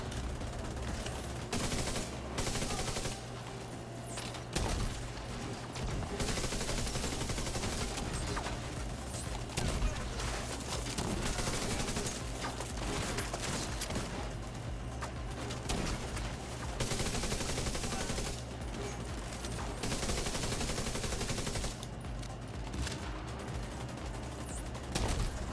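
Sniper and rifle fire in The Division 2 during a PvE fight: dense, sustained bursts of shots and sharp cracks run continuously for about twenty-five seconds, fairly distant and fairly quiet, with only faint traces of voice.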